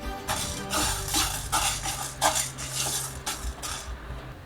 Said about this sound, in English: Now we need to dry roast all these ingredients nice and thoroughly